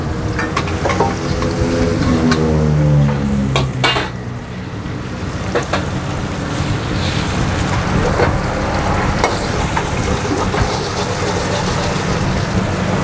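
Garlic and seasoning paste frying in a wok for kwetiau goreng in a busy food stall kitchen, a steady loud sizzle running throughout with clanks of utensils against the pan.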